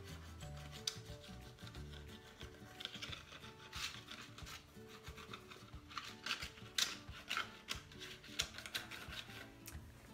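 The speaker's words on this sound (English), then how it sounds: "just scratching away with the bamboo." A bamboo tool scratches and rasps across totally dry paint in close, quiet, irregular strokes, making repeated scraping bursts with no talking.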